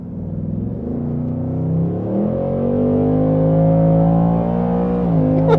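A 2024 Ford Mustang accelerates hard, its engine note climbing in pitch through a gear change about two seconds in, then rising again loud and close, with no talk over it.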